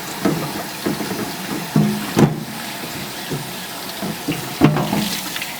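Tap water running and splashing onto a Yudu photosensitive screen-printing screen being rinsed in a sink, steady close gushing with irregular splashes and shifts as the screen is moved under the stream.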